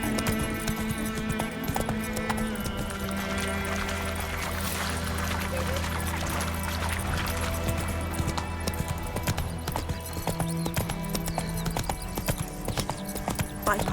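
Roach the horse galloping in The Witcher III, rapid rhythmic hoof clip-clop running continuously and close, under a low steady drone with occasional talk.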